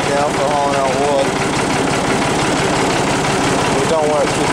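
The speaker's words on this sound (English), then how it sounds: "Don't go too bad, really, for an old tractor." A 1978 Allis Chalmers 5050 tractor fitted with a drawbar idles close by, its engine throbbing in a loud, steady low rumble throughout with a few brief higher whines.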